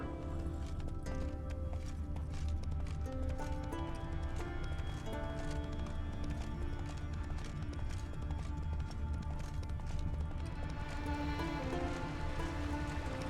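Roach the horse galloping in The Witcher 3, quiet rhythmic clip-clop hoofbeats running steadily under a soft rain-like ambience and music.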